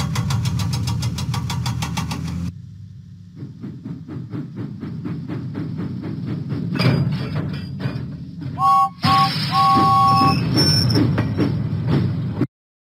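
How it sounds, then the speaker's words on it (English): A steam engine in a Thomas and Friends video game puffs out of the docks with fast rhythmic chuffing under game music, followed by a brief two-tone whistle and busier mechanical clatter. "James pumped his pistons and puffed out of the docks."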